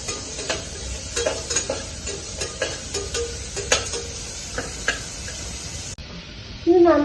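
Green chillies and curry leaves sautéing in a pan for uppumavu: a soft steady sizzle with repeated scraping and clinking stirs of a spoon against the pan, close by, ending in a brief louder clatter.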